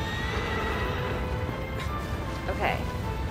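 A short horse whinny in the video game Shadow of the Colossus rises briefly over a steady background hum of game noise, fairly faint and quick.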